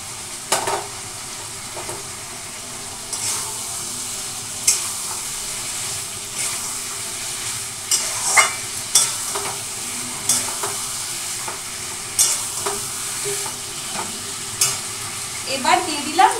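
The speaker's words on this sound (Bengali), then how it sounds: "এখন দিয়ে দেবো হচ্ছে এই পনির ভাজাগুলো।" Fried paneer tipped into a potato and pointed gourd masala that has cooked down until the oil separates, sizzling steadily in the pan while a spoon scrapes and stirs in irregular bursts, close and fairly loud with no talk.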